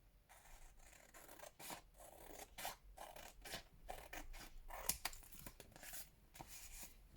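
Scissors trimming paper close up, a series of crisp, quiet snips and rustles arriving in an uneven rhythm.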